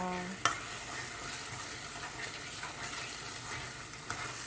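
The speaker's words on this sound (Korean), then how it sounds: "돼지고기 넣고 볶고 있어요." Seasoned pork in gochujang sauce stir-fried in a pan, a steady close sizzle with stirring scrapes and a couple of sharp clanks of utensil on metal.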